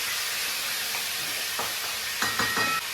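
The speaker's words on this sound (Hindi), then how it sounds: "अब इसे हमें भून देना है।" Garlic and bhujia fry in a hot pan with a constant close hiss, and a few short stirring scrapes come near the end.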